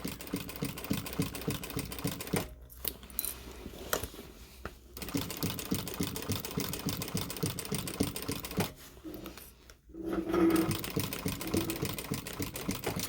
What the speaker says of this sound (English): we're going to go ahead and keep going and top stitching